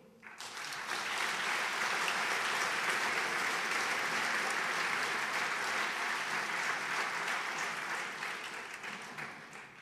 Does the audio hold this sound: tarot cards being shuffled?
no